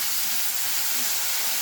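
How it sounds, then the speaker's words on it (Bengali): Sliced onions fry in hot oil for a Bengali katla fish kalia, a dense, steady sizzling hiss filling the whole moment, close and loud, with no voice over it. "পেঁয়াজটা দিয়ে নিলাম, দিয়ে নাড়িয়ে নিচ্ছি"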